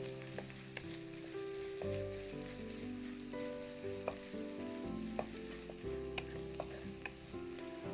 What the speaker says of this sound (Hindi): प्याज को अच्छी तरह से हम ऑयल के साथ मिक्स करेंगे।